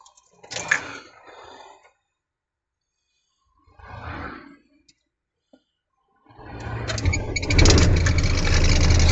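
MAN L2000 lorry motorhome diesel engine cranking with brief grinding bursts separated by silence, then catching and settling into a loud, steady, rough idle close by.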